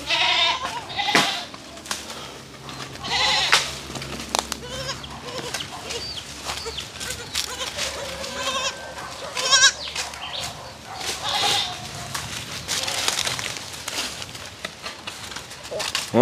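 Goats bleat repeatedly, near and loud, in a farmyard while people talk and call out over the animals, with frequent overlapping cries throughout.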